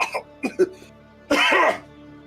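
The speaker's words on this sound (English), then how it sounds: "I have to pollute your ears with my horrible coughing." A few short throat-clearing coughs, then one louder, harsher rasping cough close up, followed by quiet.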